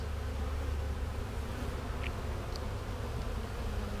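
Honeybees buzz steadily from an opened hive during a Varroa treatment inspection, a dense continuous hum with a few brief closer passes of single insects, and no talking.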